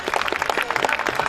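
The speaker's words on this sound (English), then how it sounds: "Please give them a big hand." At a school annual day celebration, an audience claps for award-winning pupils: a brief, dense burst of many hands clapping together, steady and fairly loud.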